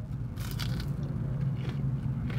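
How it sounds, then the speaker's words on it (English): Faint, close crunching bites into an Arby's Wagyu Steakhouse Burger, a few short crisp bursts spread over a couple of seconds against a quiet low hum. "I know y'all heard that crunch."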